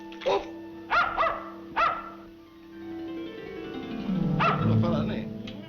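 A small toy dog barks three sharp, close yaps in quick succession, then after a short pause a low growling whimper swells and fades, with no voices over it.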